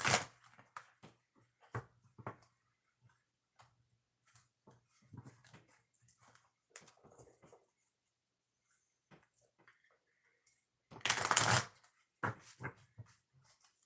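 Oracle cards being shuffled by hand give scattered soft riffling and tapping, with one louder burst of shuffling near the end, otherwise quiet.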